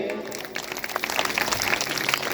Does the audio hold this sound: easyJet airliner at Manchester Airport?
no